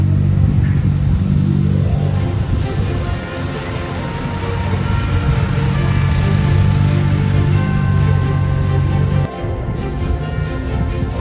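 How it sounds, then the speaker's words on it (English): Heavy low engine rumble of a Tokyo tourist bus passing close on a city street, loud and sustained for several seconds before dropping off abruptly, with steady traffic noise continuing afterward. "Tokyo tourist bus."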